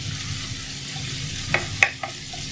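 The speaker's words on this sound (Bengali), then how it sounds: "চিকেনগুলোকে দেওয়ার পরে আমি হাতল দিয়ে ভালোভাবে নাড়াচাড়া করে এটাকে ভেজে নেব।" Marinated chicken pieces for restaurant-style fried rice frying in a pan and stirred with a spatula, a steady low sizzle under a few sharp scraping clinks of the utensil against the metal.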